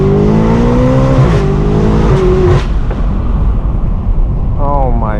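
A roughly 1000 hp BMW M8 Competition with loud exhaust accelerates hard, its engine note climbing and then breaking off at sharp shifts, close and very loud, with a burst of rising revs at the end.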